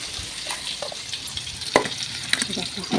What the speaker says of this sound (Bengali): আলুগুলো দিয়ে দিচ্ছি